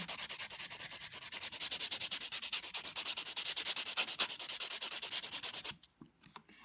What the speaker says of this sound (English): you can take a buffer and you can start buffing it